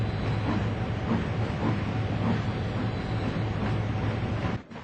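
A steam engine train pulls away with a broad, continuous hiss of steam over a low rumbling chug, holding loud and steady before dropping off abruptly at the end.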